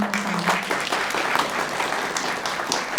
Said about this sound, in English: So let's applaud